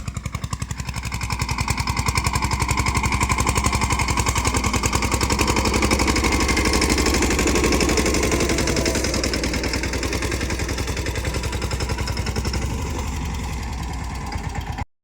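A steady engine rumbles throughout with a rapid, regular pulsing beat, fairly loud and close, then cuts off abruptly at the very end.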